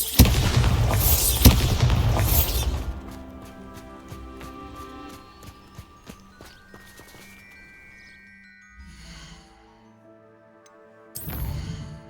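Bombarda blasting spell explosion in Hogwarts Legacy, a loud close boom with crumbling rumble at the start that fades into ringing, tinkling debris and scattered ticks, with another sharp burst near the end.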